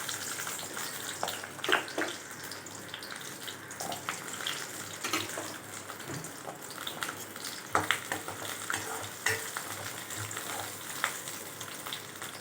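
Garlic and small shallots fry in hot oil in a pan, a continuous soft sizzle and crackle with occasional louder pops and stirring scrapes, fairly quiet and steady with no talking.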